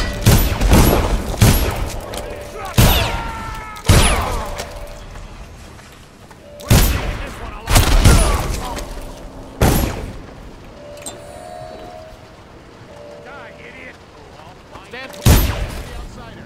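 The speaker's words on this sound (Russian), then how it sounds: "Чего они в меня стреляют там?" In Dishonored, guards open fire from a tower at the player: loud, sharp gunshots and booms come in irregular bursts, several close together and then spaced out, with a voice talking between them.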